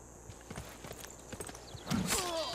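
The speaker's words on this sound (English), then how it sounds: "Ooh, horse archers." Hooves clatter in soft, quick clip-clop beats as horse archers move in Civilization VI, faint under a game soundscape, followed by a brighter swell near the end.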